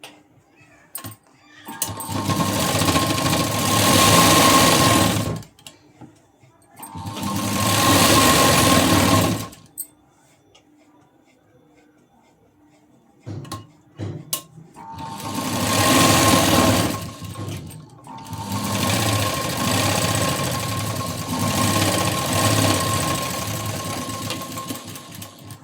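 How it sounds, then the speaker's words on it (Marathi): Sewing machine stitching the seam of a blouse in four bursts of steady, loud whirring, separated by short pauses of near silence. "आता शिलाई देऊन घेते."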